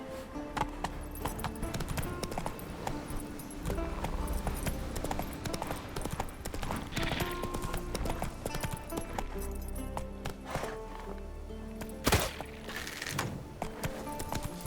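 Hooves of the horse Roach from The Witcher 3 clop in a fast, continuous rhythm under game music and ambience, with occasional louder thuds and a brief whinny-like sound.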